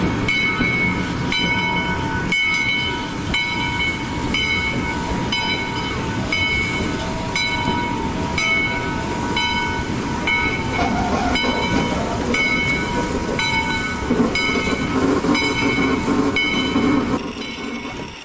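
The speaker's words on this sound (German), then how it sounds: "In dem nicht gefederten Waggon wird man ganz schön durchgeschüttelt." An unsprung wagon of the Yosemite Sugar Pine Railway train rolls along with loud, continuous rattling and rumbling, steady rhythmic track clatter and a ringing metallic squeal, heard close up throughout.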